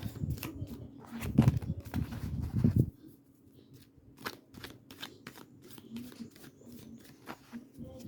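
Tarot cards being drawn and handled: a dense burst of shuffling and riffling for about three seconds, then a quieter run of separate soft card flicks and taps, close up.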